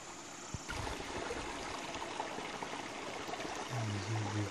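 Shallow water trickling and flowing along a low canal between villages, a soft continuous outdoor babble heard alone at close range.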